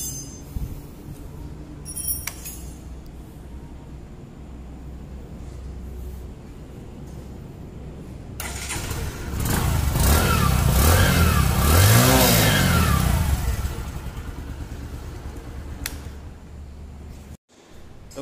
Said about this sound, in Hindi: सबसे लास्ट में इसका एक एग्जॉस्ट नोट सुनेंगे